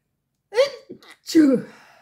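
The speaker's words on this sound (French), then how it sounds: "je vais éternuer" A single sneeze, a sharp inhale followed by a loud burst, heard close up with nothing else around it.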